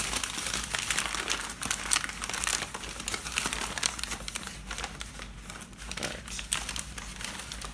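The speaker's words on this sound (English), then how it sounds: "each of these stations is wrapped up individually in newspaper. So let's go ahead and unwrap one of these" Newspaper crinkles and tears steadily and up close as a Faraday 10123 fire alarm pull station is unwrapped from its individual paper wrapping, the crumpling continuing throughout with no talk.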